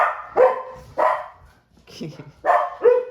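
Dogs barking at home, with five or six sharp, loud barks in an uneven rhythm, separated by short quiet gaps.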